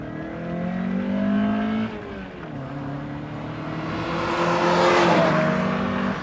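A Mazda MX5 with the 1.6 engine driving, a steady, fairly loud engine drone that holds its note, dips slightly as it shifts, then climbs again with a rising whine, no voices.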